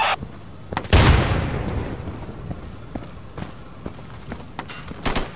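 Gunfire in the game Insurgency, with one loud, booming shot followed by a long decaying rumble and scattered fainter distant shots and pops.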